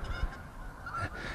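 A small group of geese honks loudly and close by outdoors, with repeated overlapping calls that swell in the middle and carry on without pause.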